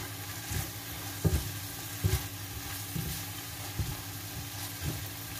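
Atta noodles being mixed with chilli sauce in a pan make a soft, steady sizzle, broken by a few scraping stirs of a spatula at irregular intervals, close and fairly quiet.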